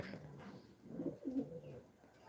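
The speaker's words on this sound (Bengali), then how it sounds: "এটা হচ্ছে মাক্সি রেসার দেখতে পাচ্ছেন কিরকম তার আওয়াজ দেখতে পাচ্ছেন" A Maxi racer pigeon coos softly in two low, throaty bursts close by, with a quiet room hush around the calls.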